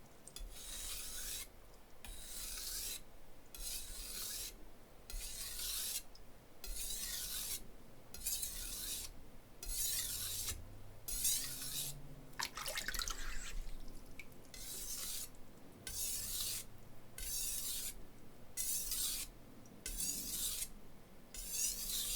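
Rhythmic rasping strokes of a knife sliding across a loud, inexpensive whetstone, steady back-and-forth passes repeating at an even pace, close and fairly loud.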